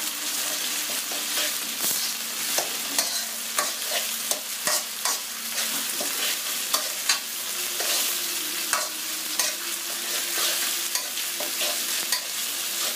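Onion and tomato frying in a wok while being stirred, with a steady loud sizzle and repeated scraping strokes and clinks throughout, no voices.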